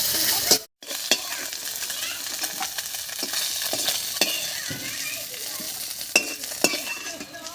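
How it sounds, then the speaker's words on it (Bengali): Steady sizzling of boreli fish frying in hot oil, with occasional sharp clinks and scrapes of a utensil in the pan and one brief dropout. "মাছগুলো হালকা করে ভেজে নিয়েছি এবার নামিয়ে নিচ্ছি"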